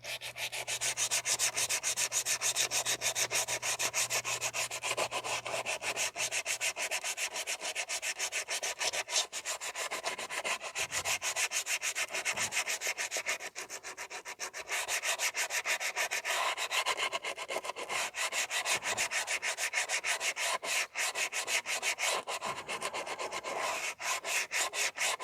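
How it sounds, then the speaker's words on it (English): Rear drum brake shoes from a 2014 Chevrolet Sonic 1.8 are sanded by hand, producing close, rhythmic rasping strokes in a fast, steady back-and-forth pattern with brief pauses and no talking. "So we are going to sand down the shoes."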